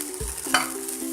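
Tomato and fresh coriander being stirred together in a cooking pan, giving a short burst of scraping and a soft sizzle, close and alone with no talk.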